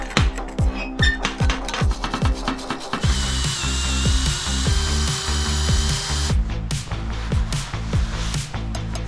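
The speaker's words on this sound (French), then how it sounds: "On va brosser tout ça." Wire brush on a power drill scrubbing the original steel wheel rims of a Renault 4L, in bursts of whirring and rasping with short stops and restarts, loud and close with no talk.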